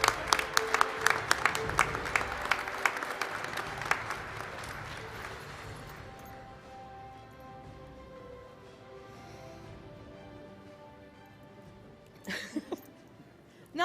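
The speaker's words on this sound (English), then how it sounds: "Another round of applause for this board of directors" Audience applause at the Professional Photographers of America award and degree ceremony, a loud burst of many hands clapping that fades after about six seconds into a quieter room with a few scattered claps near the end.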